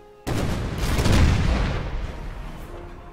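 Civil War-era artillery battery cannon fire in a video game: a sudden heavy boom erupts after a quiet start, rumbling and swelling with layered blasts before slowly fading, loud and close with no talk.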